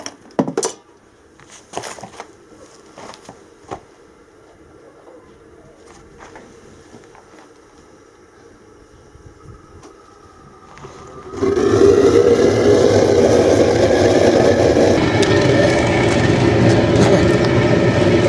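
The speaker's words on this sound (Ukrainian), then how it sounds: "а тепер включаємо турбінку" A blower turbine on a homemade aluminium melting furnace kicks on abruptly after a stretch of quiet clinks and handling noise, then roars loud and steady at close range.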